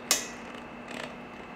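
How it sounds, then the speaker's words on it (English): Pliers work a cotter pin out of a hand truck wheel: a sharp metallic click at the start, then faint small creaks and scrapes, close and quiet with no speech. "remove the bend in the cotter pin, pull it out."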